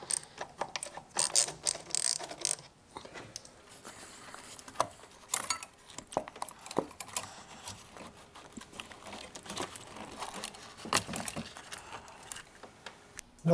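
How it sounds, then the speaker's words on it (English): A ratchet loosening the intake clamps on a supercharged C5/C6 Corvette, with bursts of fast clicking and metallic rattles, close up and fairly quiet. "I'm going to go ahead and loosen up the clamps going in and out."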